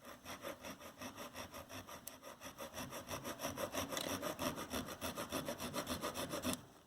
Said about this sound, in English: I've inserted the large carbide rotary bit, and the first thing we're going to do is cut the butterfly wings in half